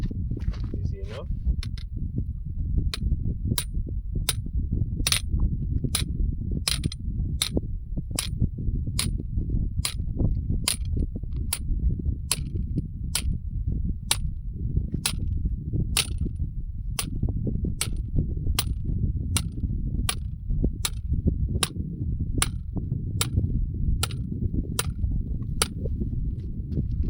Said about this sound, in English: This way I'm banging on the head of a screw.